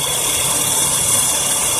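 A 2000 Ford Windstar's AC compressor runs steadily with its clutch engaged, a continuous mechanical whir and faint ratcheting hum under the engine, close and constant throughout with no talking.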